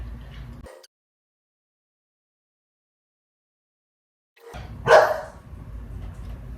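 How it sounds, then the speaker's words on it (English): A dog barks once, sharp and fairly close, after a stretch of silence, with faint room noise around it. "barking to go out"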